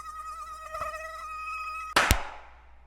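A mosquito buzz sound effect whines in a thin, steady, high drone, then is cut off by a sharp, loud slap.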